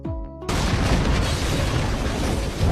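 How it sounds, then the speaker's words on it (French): A bomb goes off inside a farm stable in the film The Foreigner: a sudden loud blast erupts after a brief quiet tone, then a sustained roaring rumble of debris and fire fills the rest. "À 3 heures du matin, la bombe explose comme prévu."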